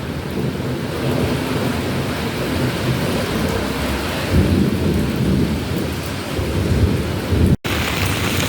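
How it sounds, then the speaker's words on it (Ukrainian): Thunder rumbles through steady rain in an autumn thunderstorm, a continuous deep roar with heavier swells midway, close and loud, and no voices. "ого, як гримить. Гримить, гримить."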